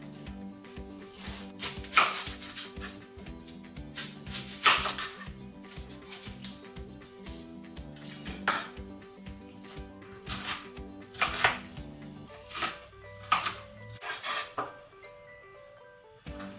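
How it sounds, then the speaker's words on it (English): Onion and carrots are chopped on a board, heard as a series of irregular, fairly close knife knocks and taps with short pauses between bursts. "So what we're going to do first is chop up the onion, and then we're going to chop up the carrots"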